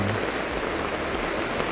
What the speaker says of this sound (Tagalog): Dahil ganito kasi ang ulan